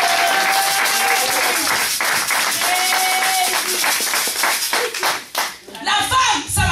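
A church congregation claps and applauds together in sustained, dense rhythmic clapping, with voices and singing mixed in throughout and a brief lull near the end before the clapping resumes.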